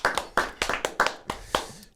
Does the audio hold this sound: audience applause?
yes